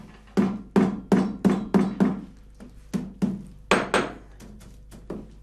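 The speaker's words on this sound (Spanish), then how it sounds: "colocar la paja que se cose y compactarla cada poco con el martillo" A hammer pounds sewn straw onto the wooden pommel of a handmade saddle tree in about a dozen sharp, close thuds, first in a quick regular run, then in more spaced strikes.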